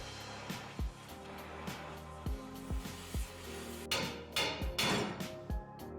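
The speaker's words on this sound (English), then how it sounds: "you might just have to break out the big blue wrench to get those suckers off" A big blue wrench working rusty leaf-spring pack bolts on a 2004-2014 Ford F150, a series of sharp metallic knocks and clanks spaced irregularly, close and clear, with a louder burst of rattling clanks near the end.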